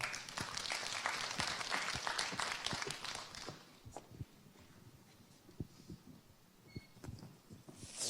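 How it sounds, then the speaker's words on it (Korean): Audience at a church gathering applauding to welcome a beauty-industry speaker to the front, a dense patter of clapping that thins out after a few seconds into scattered claps and quiet room noise. "우리 박수로 맞이하겠습니다"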